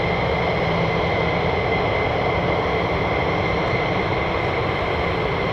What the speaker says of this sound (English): So I can hear now in the distance another aircraft started up.